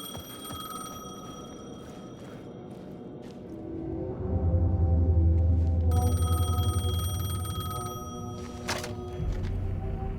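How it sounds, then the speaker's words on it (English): A telephone rings inside the video game Alan Wake II, repeated electronic ring bursts sounding over a dark, rumbling ambient score, growing louder as a deep low drone swells midway through. "phone was ringing. Somehow I knew the call was for me."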